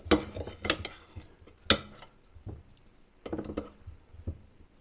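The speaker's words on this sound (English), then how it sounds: "Give that a good old stir." Tinned potatoes coated in curry powder and oil are stirred in a bowl, giving a few sharp metallic clinks and scrapes in irregular bursts, close and with quiet gaps between them.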